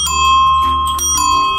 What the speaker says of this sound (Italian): abbiamo montato i campanelli sulle nostre bici e ve li facciamo vedere